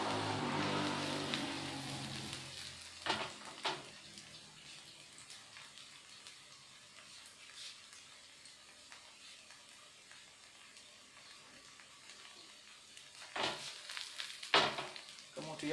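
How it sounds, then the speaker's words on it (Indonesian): Fried rice ingredients for an egg rice dish hiss in a hot pan. The sizzle is strong at first, then settles into a quieter steady fry broken by occasional scraping stirs, close up and without speech. "Terus diaduk, sobat, sampai agak layu."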